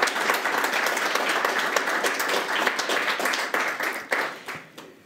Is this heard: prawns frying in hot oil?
no